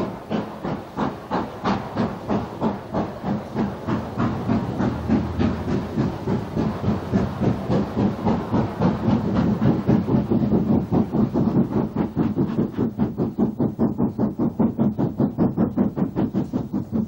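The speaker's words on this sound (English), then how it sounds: "This is one of the U class, which were regarded primarily as passenger engines." A Southern Railway U class steam passenger locomotive working hard, its rapid rhythmic exhaust beats and hissing steam running evenly for the whole stretch, loud and close, the chuffs quickening slightly as it goes.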